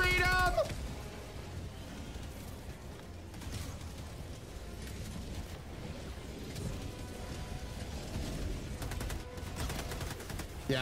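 Video game weapons fire in a steady, fairly loud rattle of rapid shots, forming a continuous barrage of gunfire and blasts from start to finish.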